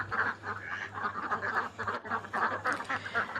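Ducks being raised for eggs quack close by in a rapid, overlapping series of nasal calls over a steady low hum, with no talking.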